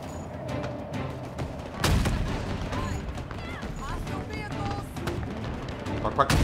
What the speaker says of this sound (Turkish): Fena vuruyormuş sniper ha.